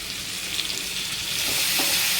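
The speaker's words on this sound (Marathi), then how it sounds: "आपल्याला कांदा छान असा लालसर रंगावर परतवून घ्यायचा आहे" Onion sautéing in a pan until reddish for kurdai bhaji, a steady broadband sizzle with occasional stirring scrapes, close and continuous, no talking.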